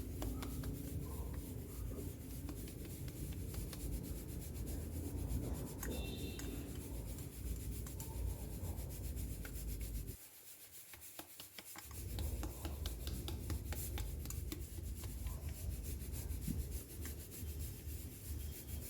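Bhatura dough is kneaded and slapped by hand in a bowl, giving a soft, continuous rubbing and rasping with faint repeated slaps, quiet and close, with no talking.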